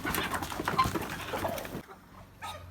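Noisy scuffling of drakes fighting: harsh squawks and flapping bursts, close and busy for nearly two seconds, then a brief lull before another short flurry.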